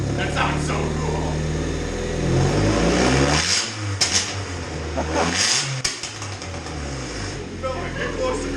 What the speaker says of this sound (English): it backfires out of the intake